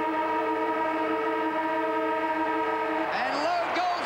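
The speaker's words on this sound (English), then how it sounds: "And Lowe goes after the siren." Australian football match siren at a 1998 North Melbourne versus St Kilda game, a sustained wavering horn tone rising near the end of a steady crowd roar, with commentators talking over it.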